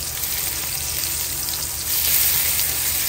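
A thin blackened halibut fillet sizzles steadily in a hot pan just after being flipped, a loud, dense frying hiss that swells slightly partway through, with no talk.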